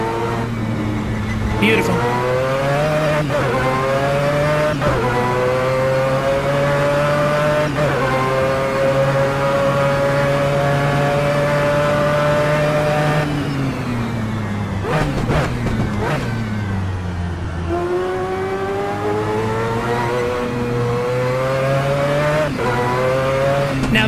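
Mazda 787B race car in a racing game, its engine screaming loud and steady through long rising gear pulls with sharp shifts and a brief lift mid-lap; someone briefly speaks over the engine.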